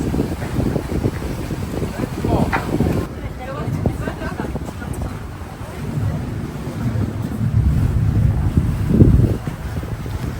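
A boat crosses a deep lake toward Interlaken, Switzerland. Wind buffets the microphone while water rushes along the hull in a continuous loud wash, with people talking now and then underneath.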